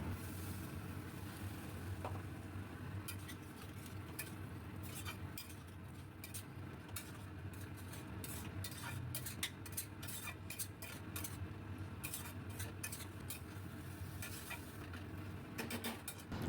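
Masala being stirred in a pan for a rohu fish curry, with repeated clinks and scrapes of a metal spoon against the pan over a faint, quiet sizzle that speed up in the second half.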